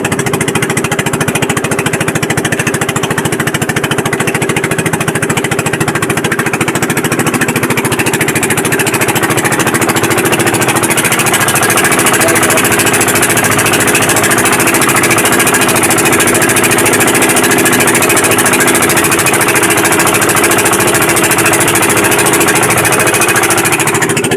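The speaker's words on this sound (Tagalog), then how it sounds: "ito ang ginamit na natin nga makina guys, ang Honda na nga kinabit ko sa kasko sa bangka natin" A Honda engine fitted to the hull of a wooden boat runs steadily and loudly throughout, a continuous close mechanical drone with a knocking, rattling texture and no talk.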